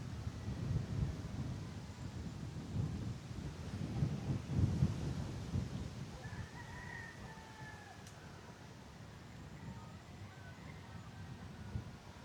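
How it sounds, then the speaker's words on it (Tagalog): Strong wind buffets the microphone beside Lumot Lake, with choppy waves washing in a steady rushing roar that swells and eases, while a rooster crows faintly in the background. "Yung alon ng lawa. Parang alon na ng dagat Lakas."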